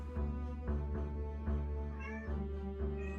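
A cat meows repeatedly in a kitchen, several drawn-out calls close by, riding over a steady low hum from a stove running on medium heat.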